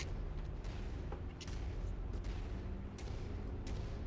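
Distant booming artillery in the video game Death Stranding, a low rumbling barrage with faint scattered blasts under a steady dense background.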